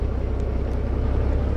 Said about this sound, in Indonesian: Kita starter terlebih dahulu.